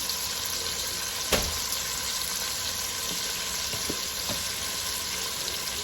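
Beef stew meat seasoned with salt and pepper searing in a pot, a dense continuous sizzle with a sharp stirring knock early on and a few lighter scrapes later, close and steady.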